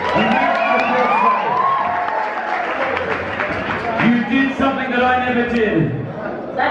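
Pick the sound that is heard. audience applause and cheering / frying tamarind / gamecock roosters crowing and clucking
audience applause and cheering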